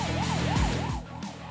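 A police car siren cycles in a rapid, loud yelp as the car enters a city intersection, with a deeper falling sweep cutting across partway through.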